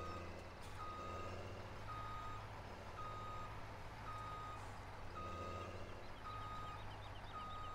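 A truck in Farming Simulator 17 reverses with a steady series of evenly spaced beeps over a low idling engine drone, faint and continuous, without talk.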